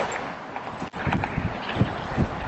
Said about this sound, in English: Oh, we got windy right here.